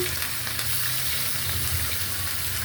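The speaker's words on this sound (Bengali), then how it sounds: "একটু মশলাটা একটু ভাজে নেই" A spice paste with plenty of ground onion paste and salt fries in a pan for chicken pulao. It gives a steady, close sizzle with no break.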